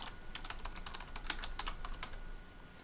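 Keys on a computer keyboard tap in a quick, uneven run as a name is typed, close and clear, ending in a short pause with no talking.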